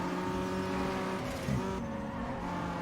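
Race cars in Need for Speed Underground 2 roar together in a steady, loud engine drone, with a brief thump near the middle as cars bump into each other ahead.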